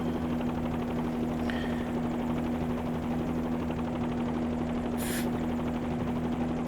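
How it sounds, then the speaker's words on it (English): Bell 47 helicopter in Microsoft Flight Simulator 2020 with a steady, droning rotor and engine hum held at an even level throughout, joined by a brief high hiss near the end. "Flyinside Bell 47 helicopter for you guys"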